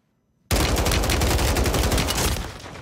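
A dense, rapid burst of automatic gunfire from the shooter game Warzone 3 erupts abruptly after a brief silence, loud and close, rattling continuously for about two seconds before tapering slightly.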